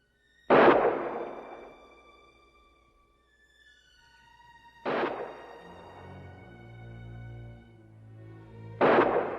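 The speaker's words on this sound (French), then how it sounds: "Griff décide de tirer. Il tire, plusieurs fois." Three loud, reverberant gunshots in a Samuel Fuller war film, several seconds apart, each a sharp crack that fades slowly over a low sustained musical bed.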